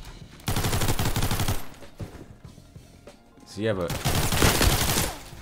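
Bursts of unsuppressed MAC-10 submachine gunfire in the Roblox game Criminality, two loud rapid-fire strings separated by a brief lull, with a player talking over the shots.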